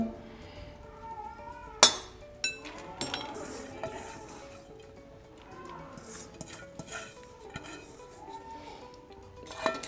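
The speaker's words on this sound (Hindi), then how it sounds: "इन सबको शामिल करके अब इनको अच्छी तरह मिक्स करें।" Chopped green chilies and fresh coriander being mixed in a bowl, with sharp utensil clinks and knocks against the dish followed by softer stirring and scraping, close and alone.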